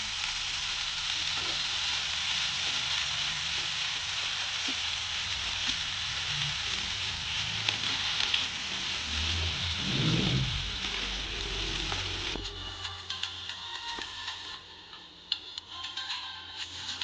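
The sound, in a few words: bottle gourd peel chutney frying in a pan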